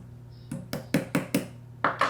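A link pin is tapped into a Garmin Fenix titanium watch band, a run of six or seven sharp, close metallic knocks in an uneven rhythm in a quiet room.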